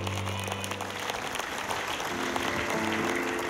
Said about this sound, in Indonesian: tepuk tangan dong buat suaminya nih